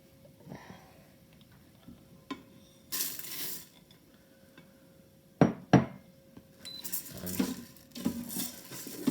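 Rice being stirred in oil in an Instant Pot on sauté mode for chicken mushroom risotto gives scattered scrapes and metallic clinks of a spoon against the pot, with a soft background between strokes.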